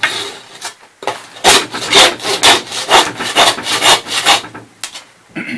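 A saw rasps back and forth through stubby, brittle deer bones during loin removal at home, loud and close, with about a dozen steady, rhythmic strokes after a brief pause.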